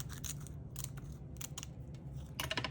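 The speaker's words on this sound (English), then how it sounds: "Let's cut this down." Scissors snipping craft fiber for handmade tags, a series of quick crisp cuts in irregular bursts, close and clear with no talking.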